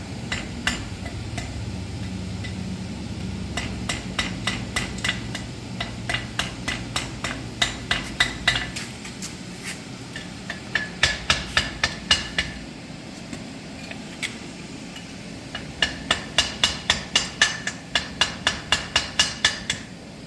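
A forged chain link is hammered on the horn of an anvil in quick bursts of ringing metallic blows, several sharp strikes in a row, then a pause before the next run, close and clear.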